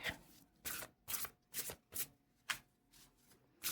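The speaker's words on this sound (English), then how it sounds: "And then I'm going to pull some tarot cards." Tarot cards being handled and shuffled, soft papery riffles and slides coming in about eight short bursts with brief pauses between, faint and close, with no talking.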